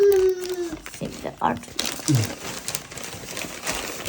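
Paper crinkles and rustles up close as wrapping is pulled away, with people talking over it.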